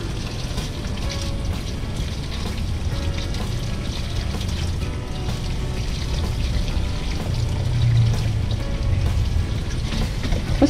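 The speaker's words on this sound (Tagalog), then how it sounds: "After hiwain ng napa cabbage, ngayon po ay huhugasan na natin." Napa cabbage leaves being washed one by one in water for kimchi, a continuous close pouring and splashing with soft sloshing that swells briefly midway, without speech.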